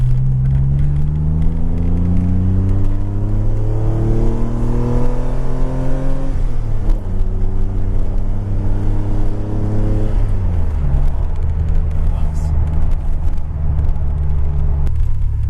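DeLorean engine revving hard and alone, its pitch climbing in steady sweeps, dropping, then rising again, loud and close.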